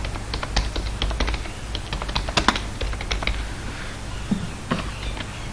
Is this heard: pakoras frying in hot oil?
no